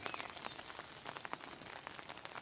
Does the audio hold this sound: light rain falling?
yes